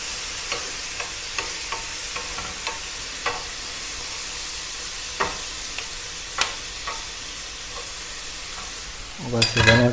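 Scallops frying in a pan give a steady close sizzle throughout, dotted with light taps and stirring clicks, ending in a louder burst of crackle and clatter.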